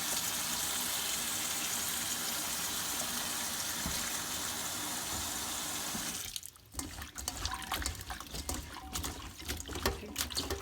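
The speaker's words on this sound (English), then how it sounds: "I'm going to wash it with salt water." Tap water gushes steadily into a sink as broken asparagus pieces are washed in salt water. The strong, even flow cuts off partway through, leaving soft drips, splashes and handling noises close by.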